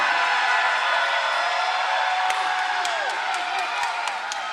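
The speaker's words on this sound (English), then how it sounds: "Listen to the crowd erupt for Greensboro's own Joseph Action Jackson." A boxing arena crowd roars steadily as a fighter enters the ring, a dense wash of cheering with scattered sharp claps and thuds throughout.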